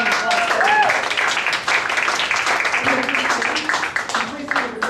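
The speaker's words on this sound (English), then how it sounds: "Give me a round of applause." Audience round of applause at an improv comedy show, steady close clapping throughout with a voice speaking briefly over it.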